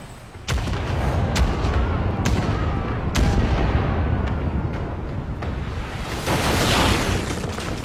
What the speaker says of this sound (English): Let's go for their sails. Chain shot.